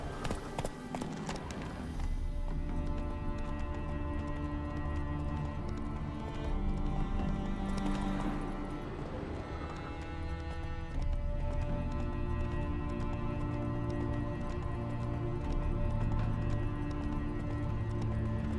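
Game horse Roach from The Witcher 3 clip-clops with steady hoofbeats and gives a whinny, heard under a continuous game music score and ambience.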